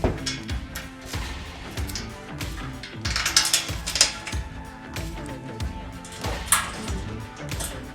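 Repeated clicking of a ratchet wrench tightening bolts that fasten a Holman tank rack to the floor of a RAM ProMaster van, in short uneven bursts of ratcheting over a steady background hum, with no talking.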